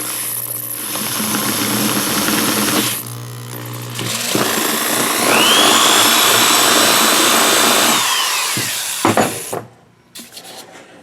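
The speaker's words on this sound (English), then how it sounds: "now we're just going to drill a 1/2 inch hole right in here" A power drill whirs loudly, its pitch rising as it bores a half-inch hole through foam for a valve stem, then slows and stops, followed by a few clicks and handling noises.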